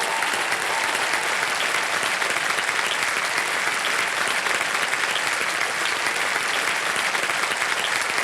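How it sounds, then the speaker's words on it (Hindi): A studio audience at the quiz show Kaun Banega Crorepati claps in loud, dense, sustained applause that holds evenly from start to finish with no voices over it. "तालियां बज जाए इनके लिए।"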